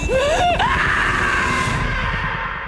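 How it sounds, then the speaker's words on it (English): A woman's piercing, blood-curdling scream with a wavering, rising pitch in a dramatic TV crime series scene, loud and close, then trailing off into a sustained ringing tone over low rumbling background. "That scream is blood-curdling."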